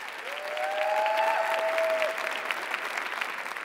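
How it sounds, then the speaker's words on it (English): Audience applause at an awards dinner, a steady wash of clapping from a crowd lasting several seconds, with a faint tonal whistle or feedback squeal sliding through early on. "Big round of applause, please."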